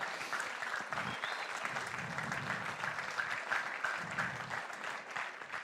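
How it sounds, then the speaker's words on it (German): Steady applause from a sizeable congregation at a church service, dense and continuous clapping throughout at an even, fairly loud level. "Geben wir Ihnen auch einen grossen Applaus da hinten."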